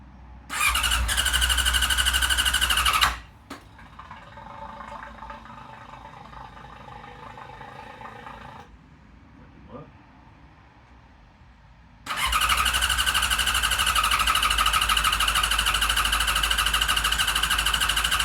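A Yamaha R6 motorcycle with fuel leaking from the bottom is cranked but fails to start, giving a loud, steady starter grind that runs for about three seconds. A quieter middle stretch follows before a second long cranking burst.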